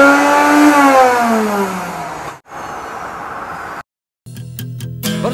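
An engine revs loudly with its pitch falling, cuts out briefly, rumbles again, then drops to silence before a burst of other noise.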